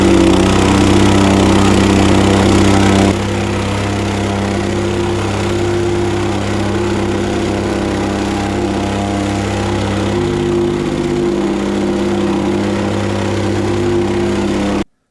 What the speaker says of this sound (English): Honda engine. Fires up no problem all the time.